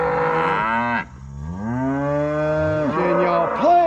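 Cows and heifers low repeatedly nearby on a farm, long drawn-out moos overlapping one another, loud and close with brief gaps between calls.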